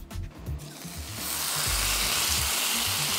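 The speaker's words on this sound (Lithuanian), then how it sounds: "Kepsime šoninę." Bacon goes into a frying pan with a few soft handling thumps, then a loud, dense, even sizzle quickly builds and holds.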